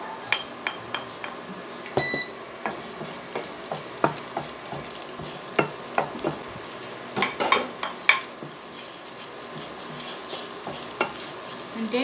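Garlic frying in cooking oil for beef kaldereta, a soft continuous sizzle punctuated by regular sharp spatula knocks and scrapes against the pan, with a brief metallic clink near the start and no talking.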